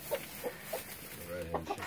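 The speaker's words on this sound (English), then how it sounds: "And we have a hen down here," A hen clucks in a series of short, soft calls outdoors, close by, with a low murmur beneath.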